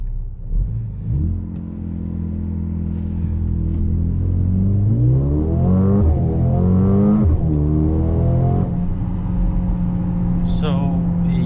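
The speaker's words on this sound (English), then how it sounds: "We're gonna go ahead and brake boost it, and it is in Sport Plus at the moment." A 2021 Mercedes-Benz GLB 35 AMG in Sport Plus with traction control off launches from a brake boost. The engine rumbles low and builds into loud rising revs through several gear changes, heard from inside the cabin with some voice over it.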